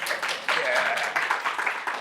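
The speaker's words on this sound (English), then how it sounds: "It's the first and only time my dad jokes get an applause" Audience applause at a seminar, a brief burst of scattered clapping with a voice talking over it.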